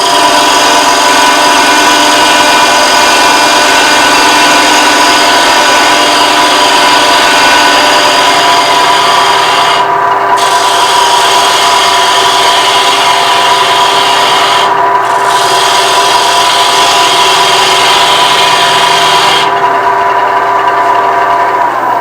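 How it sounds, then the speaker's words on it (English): Bowl gouge cutting across a wooden bowl spinning on a lathe, a loud continuous rubbing and scraping over the steady machine drone, with brief lifts of the tool. "I can remove a large portion of that with my bowl gouge"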